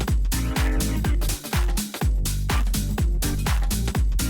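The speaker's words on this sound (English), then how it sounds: "I came up with a minute's worth of ideas, like 8-bar loops kind of put together all in one thing" Stripped-back 8-bar music loop for a track, with punchy repeating kick-and-bass hits in a steady rhythm, bright layered synths and percussion playing continuously and loud, no voices.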